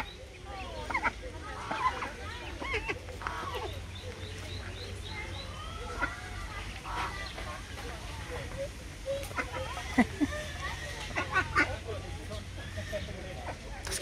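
A mother duck quacks at a zoo park, giving short repeated calls amid outdoor background sounds while people talk nearby.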